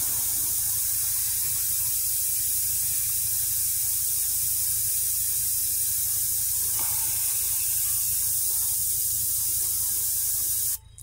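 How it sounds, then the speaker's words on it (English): An airbrush blows a steady, close hiss of air to dry blue speed paint on a Space Marine miniature, continuous throughout and stopping abruptly at the very end. "We're just going to use the airbrush to dry it off."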